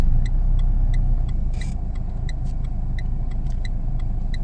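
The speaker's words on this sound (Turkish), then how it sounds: "Burada eğim olduğu için mutlaka yarım debriyaj yaparak kaldırıyoruz arabamızı." Car reversing uphill on a slope with the clutch half engaged, a steady close engine rumble with a regular ticking pulse running over it, no talk.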